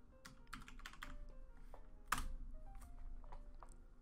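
Someone types a command on a computer keyboard, producing a quick run of close, crisp key clicks with one louder keystroke partway through, heard alone without talk.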